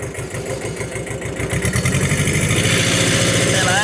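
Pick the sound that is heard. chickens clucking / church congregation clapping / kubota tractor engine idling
kubota tractor engine idling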